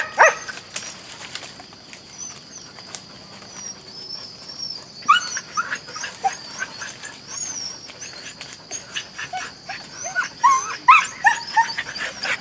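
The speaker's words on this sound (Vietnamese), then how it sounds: "Con chó này nó gọi bầy cũng ghê, khi có cái gì nó ăn ẳng mấy phát" A hunting dog yelps and whimpers in short bursts outdoors near bamboo thickets, with scattered sharp cries over rustling and bird sounds, louder toward the end.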